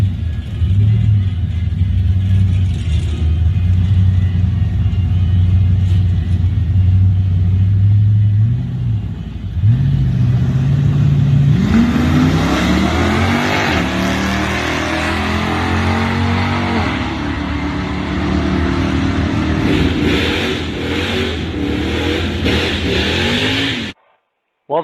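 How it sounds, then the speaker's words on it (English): An LT1 Camaro makes a drag racing pass at the LTX Shootout, its loud engine droning steadily and then revving hard through rising gear shifts for over twenty seconds before cutting off abruptly. "the first pass, the car made a pretty decent pass"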